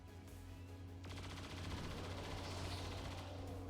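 Faint bursts of rapid gunfire from the video game XCOM 2 Long War of the Chosen, a quick rattling volley that continues steadily through the moment.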